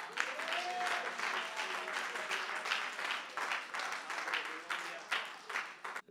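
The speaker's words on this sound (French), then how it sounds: "Applaudis le Seigneur." A church congregation applauds in a dense, continuous wash of clapping that runs for several seconds, mixed with voices calling out and a raised singing voice beneath.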